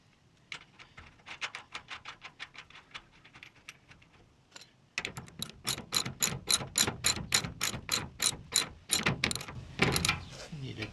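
A socket ratchet clicks in rapid rhythmic bursts while tightening carriage bolts on a wheeled stock tank garden bed. Faint at first, it turns louder and closer after a brief pause.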